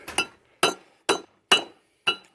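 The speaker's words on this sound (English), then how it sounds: "I'm taking the hammer" Five sharp metallic hammer strikes drive a new ARP wheel stud into the hub of a 1994 Chevrolet S10, close and ringing, evenly spaced about half a second apart.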